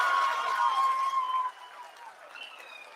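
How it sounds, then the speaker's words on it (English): At ISRO headquarters, a crowd applauds after the Chandrayaan 3 landing; the clapping is fairly faint and distant, softens midway, and runs beneath a thin tone and a murmur of voices. "People are applauding."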